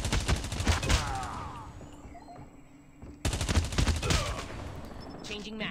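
A RUS-79U rifle fires in Call of Duty Mobile: a rapid, loud automatic burst, a short lull, then a second sustained burst, each shot crisp and close.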